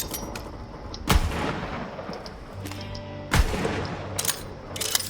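A Jacob's pistol fired in Borderlands 3, with three or four sharp, loud single shots spaced a second or two apart over a low game background.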